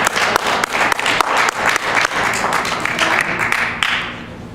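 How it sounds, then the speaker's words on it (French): A church congregation breaks into loud, dense applause after a sermon, with sharp individual claps standing out in the steady patter, easing off slightly toward the end. "On peut l'applaudir."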